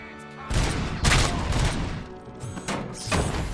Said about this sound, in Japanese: やべえ、爆発した。